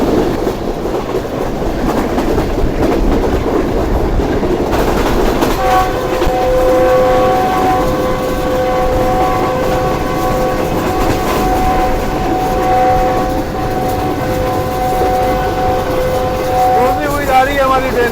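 Pak Business Express train running alongside a river, steady loud rumble and rattle of the cars throughout, with a long sustained horn blast sounding through the middle and people talking over it.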